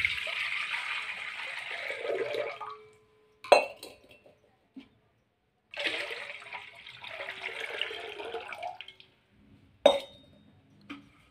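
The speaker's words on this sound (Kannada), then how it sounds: "ಪಾತ್ರೆಯೊಳಗೆ ನೀರನ್ನು ಹಾಕುತ್ತಿದ್ದೇನೆ." Water from a small pot is poured into a vessel in two long splashing pours, each ending with a sharp clink of metal against the container, in a quiet room.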